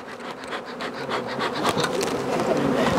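Dense, close buzzing of many honeybees in an opened hive, a busy droning swarm that grows slightly louder over a few seconds.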